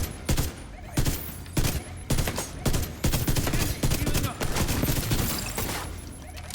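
Rapid bursts of Ravenous exotic rifle fire in the Division 2 shooter game, loud repeated volleys with blasts spread across the stretch, some faint voice underneath.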